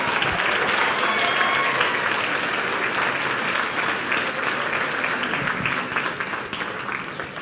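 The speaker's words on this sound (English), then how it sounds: "stand up and let's give you a big round of applause." Sustained, dense audience applause at a psychedelic-assisted therapy conference, steady and loud throughout with scattered cheers in the crowd, fading slightly near the end.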